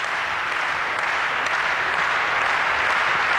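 A tennis crowd applauds at a 2003 Filderstadt women's match, a loud, dense, unbroken wash of clapping that holds steady throughout, with no talk over it.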